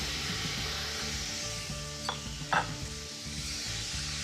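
Garlic, onion and carrots sizzle in a pan after braising beef has been browned, a steady loud frying hiss with a couple of sharp utensil scrapes from stirring, no voices.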